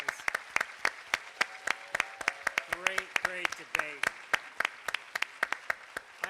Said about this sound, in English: Another round of applause for everybody.